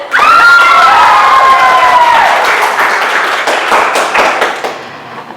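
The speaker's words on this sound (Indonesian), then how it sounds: "Boleh tepuk tangan?" An audience at a university teaching session in Indonesia cheers and applauds loudly, a whistle-like shout rising early before dense clapping and voices fill the room, then fade toward the end.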